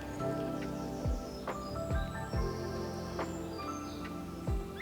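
Birds sing outdoors in the grounds of a French castle, with a few short, faint chirps and tweets scattered over a low steady background.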